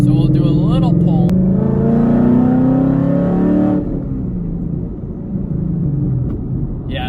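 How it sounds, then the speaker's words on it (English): A Ford Mustang GT's Coyote V8 revs loudly at close range with a steady, rising engine roar that drops to a lower rumble partway through; talking is heard over the engine. "there's the Coyote engine is one of my favorite engines on the market today. The sound is incredible."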